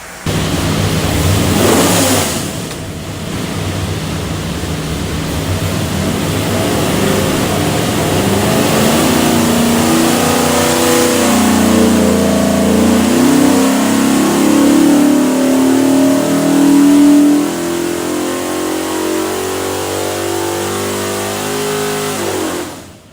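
A Ford 427ci V8 fitted with Holley Sniper 2 EFI, built for a 1960 Falcon, runs on an engine dyno, starting at idle, then a long loud pull climbing steadily in revs before cutting off, with no voices.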